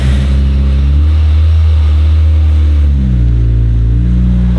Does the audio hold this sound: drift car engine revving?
yes